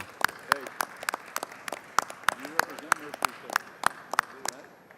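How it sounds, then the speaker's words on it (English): A round of applause in the Texas House chamber at the Capitol: sharp, distinct claps from a modest number of people, loud and irregular, with faint voices murmuring between the strokes. "help me welcome them to their Texas Capitol with a big round of applause"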